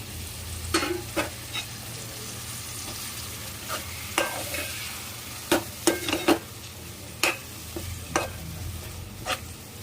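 Tomatoes dropped onto fried onions in a hot pan: a low steady frying hiss punctuated by a series of sharp spatula taps and scrapes, close and fairly loud, with no talk.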